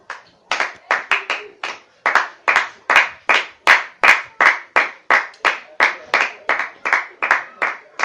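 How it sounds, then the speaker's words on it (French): A church congregation claps in praise to God, a loud run of sharp, evenly spaced claps after a short pause, with a steady, sustained rhythm. "Est-ce qu'on peut acclamer pour Dieu?"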